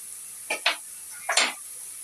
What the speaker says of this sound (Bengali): পেঁয়াজটা আমি ভালো করে ভেজে নিয়েছি এখন মশলা দিয়ে দিব